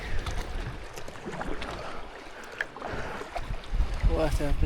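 A kayak is paddled across the sea near a remote, isolated Croatian island, with rhythmic splashes and water lapping under steady wind noise; a muffled voice is briefly present.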